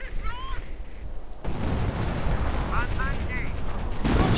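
Artillery fire from the Company of Heroes video game: dense, rumbling barrages and booming impacts that roll on steadily at moderate loudness, with a voice talking over them.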